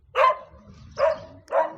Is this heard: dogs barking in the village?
yes